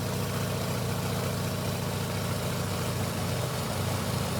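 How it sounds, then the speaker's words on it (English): A Sukhoi SU-31 aerobatic aircraft in Microsoft Flight Simulator idles its engine, a steady, continuous low mechanical drone that stays even and loud throughout with no talking. "And the engine sounds at idle as well."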